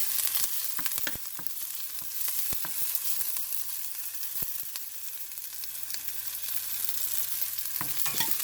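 Curry leaves and green chillies sauté in hot oil with a steady, close sizzle and bright crackle, broken by occasional sharp pops and spatters across the whole stretch.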